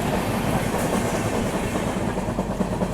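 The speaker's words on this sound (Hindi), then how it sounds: "ये है गोरखपुर यशवंतपुर एक्सप्रेस, जो मंडे के दिन चलती है।" The Gorakhpur–Yesvantpur Express passing on Indian railway track: a steady, loud rumble of rolling railcars with rhythmic clickety-clack of wheels over rail joints, continuous throughout and with no voices.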